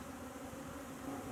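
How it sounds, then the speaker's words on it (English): Bees at a hive being fed sugar water buzz in a continuous, even drone, a close, steady hum with no pauses over a short stretch. "I'm drowning some bees,"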